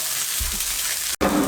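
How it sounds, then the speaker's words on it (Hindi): Shredded boiled chicken sizzles with masala in a pan, a steady close hiss of frying that briefly cuts out near the end before resuming. "इसके अंदर अच्छे तरीके से मिसाले के साथ लपेटते रहेंगे और 1 मिनट तक कुक करेंगे"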